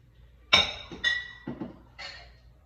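Four separate glassy clinks and knocks, spaced about half a second apart, close and fairly quiet in an otherwise still room.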